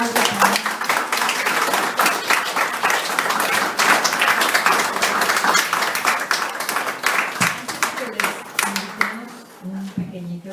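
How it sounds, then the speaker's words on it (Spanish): Sustained applause from a crowd, dense clapping that runs steadily for about nine seconds before thinning out near the end. "Un aplauso también."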